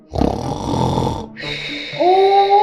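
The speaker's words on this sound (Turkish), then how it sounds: "bunun horlama sesi gene geliyor" Loud, close snoring: a rough rasping inhale followed by a droning, whistling breath, one heavy snore cycle.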